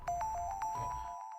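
A short burst of distorted square-wave synth pluck arpeggio, gritty rapid notes played close, alone with no talking.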